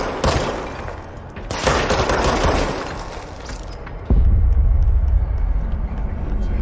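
Video game gunfire in League of Legends, rapid bursts of shots and impacts in fast volleys under a loud, busy mix of game effects and a deeper thumping blast near the end.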